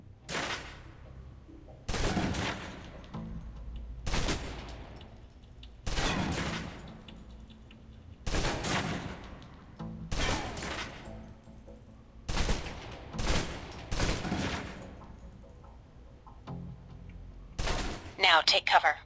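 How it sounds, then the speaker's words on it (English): Submachine gun in the Alpha Protocol video game firing repeated full-auto bursts until the clip empties, loud and close with short pauses between bursts, plus a faster, brighter rattle near the end; a voice speaks in between. "Now, let's move on to the submachine gun. Hell yeah. Now let's empty the clip."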